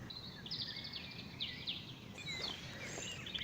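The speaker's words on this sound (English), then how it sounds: "you can hear the birds sing in the trees" Faint birdsong drifts from trees in the distance at sunset, several high chirps and warbling phrases scattered over a quiet outdoor background.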